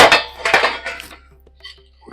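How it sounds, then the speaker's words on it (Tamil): Roasted spices are tipped from a pan onto a plate, a loud close run of metallic scrapes and clatters from spoon and pan, then quieter faint clinks trailing off. "இப்போ இதை நம்ம ஒரு பிளேட்டுக்கு மாத்திக்கலாம்."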